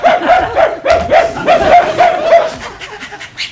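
During an improv comedy show, a voice imitates a dog, yapping and whimpering in a quick series of short barks, close and loud, trailing off near the end.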